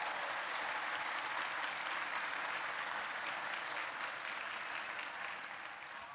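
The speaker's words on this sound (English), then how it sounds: "give yourself a big round of applause" An audience at a college convocation for an incoming class applauds in a dense, sustained wash of clapping that stays loud and even, then tapers slightly toward the end.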